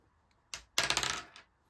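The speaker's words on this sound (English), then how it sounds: "Let's get the dice out. So every week I roll a couple of times" A couple of dice rolled onto a hard surface for a savings challenge: one brief clatter, then a longer rattling tumble of quick bouncing clicks that settles within about half a second, close and alone.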